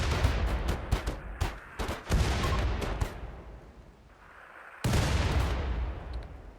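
Artillery volley in the RimWorld game: a rapid series of sharp, loud bursts in the first half, a quieter lull, then a second dense cluster of booms rising near the end.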